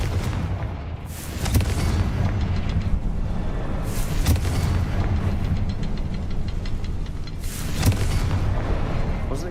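Repeated booming spell blasts from Confringo in Hogwarts Legacy, heavy low-end impacts with crackling bursts recurring across the stretch, loud and close over continuous game rumble.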